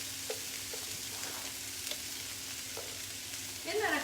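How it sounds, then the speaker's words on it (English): Diced onions fry in melted butter in a pan while someone stirs, giving a steady close sizzle with light scraping clicks and a brief stronger hiss near the end. "we're just going to dump these diced onions into this butter. We're going to cook those up until they're soft and tender."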